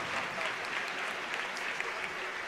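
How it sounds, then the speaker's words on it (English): An esports crowd at the ESWC championship final in Paris applauds the podium team, a dense, steady burst of clapping that lasts throughout. "J'aimerais quand même qu'on leur fasse un peu d'applaudissements pour cette équipe"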